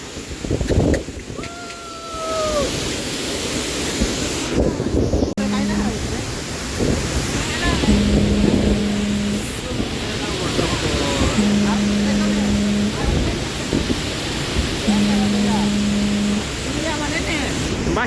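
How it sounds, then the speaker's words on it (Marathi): The loud, continuous roar of Vasundhara Waterfall at Koltembhe near Ratanwadi fills the scene, with a brief whistle early on and a few long, steady low tones repeating. "आपलं सुंदर वॉटरफॉल आणि खूप सुंदर असं पाणी पडत आहे बघा"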